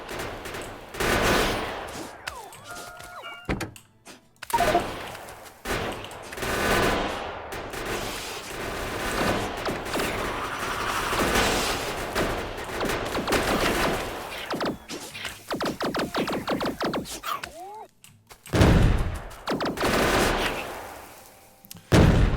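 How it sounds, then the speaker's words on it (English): Gun turrets in Factorio firing on biters: dense, rapid bursts of automatic gunfire that go on for over twenty seconds, with brief pauses between volleys and sharp rattling runs of shots. "So you can see that the gun turrets do a pretty respectable job"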